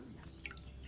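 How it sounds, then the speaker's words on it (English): Liquid potion decanted from a cauldron into a small phial, heard as soft close dripping and trickling over a steady low background hum. "Get a phial and pour it in."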